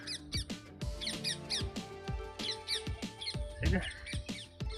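Rapid, repeated shrill squawks and chatter from a group of parrots in a maize field, close and busy, overlapping with a few low thumps.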